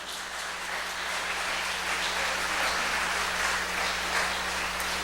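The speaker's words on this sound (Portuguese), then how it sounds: "Você pode aplaudir o Senhor por isso" A church congregation claps steadily, a dense, even wash of many hands that holds at the same level for several seconds without a break.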